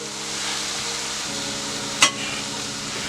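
Canned diced tomatoes cook in a pan for Cajun pasta with shrimp and andouille, giving a constant close frying hiss with a low background hum and one sharp clack of a utensil partway through, no talking.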